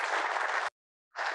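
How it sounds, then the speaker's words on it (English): An audience claps at a community forum on a road project, a dense burst of applause that cuts off abruptly, falls silent briefly, then resumes. "So I think Lucretia deserves a great round of applause too."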